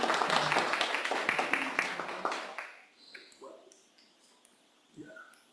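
A school board meeting audience claps in a thick, fairly loud burst that fades over about two and a half seconds. Sparse faint taps and small room noises follow.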